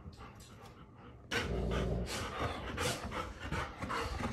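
A dog pants rapidly and loudly close up, with a sharp start after a quiet moment and some whimpery breaths mixed in; no clear woof stands out.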